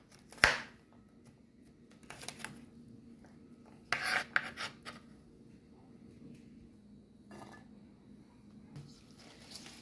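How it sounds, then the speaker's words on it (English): A knife cuts through scallion on a board, giving a few scattered crisp rasping slices, one sharp stroke at the start and a cluster midway, quiet between strokes. "I'm just going to cut up my scallion now"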